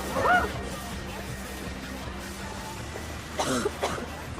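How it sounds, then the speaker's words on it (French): A person coughs once near the start and again a few seconds later, fairly faint over a low background hum. "Je tousse depuis 3-4 mois environ"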